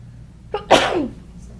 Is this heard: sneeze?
yes